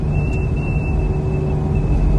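Range Rover cruising above 50 mph with a roof light bar, a steady thin whistle riding over constant road and engine rumble from inside the cabin, unbroken throughout.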